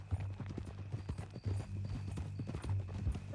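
Horse hooves clip-clop in a steady rhythmic trot in the Red Dead Redemption 2 video game, close and clear, with a low rumbling hum underneath and no talking.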